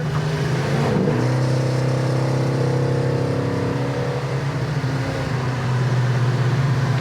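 A 1974 Plymouth 'Cuda cruising at about 62 mph, its engine droning steadily and loud up close, with a low rumbling hum and faint tonal shifts as it holds speed.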